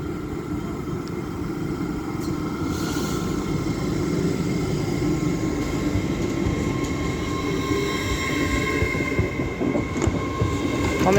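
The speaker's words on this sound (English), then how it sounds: "as now departing is 801 106 and her partner, working the 1306 LNER Azuma to" A pair of LNER Azuma class 801 units departs Doncaster station on the East Coast Main Line, a close, steady rumble of wheels on rail with rising whine and occasional squeal and clatter, building slightly in loudness as it pulls away.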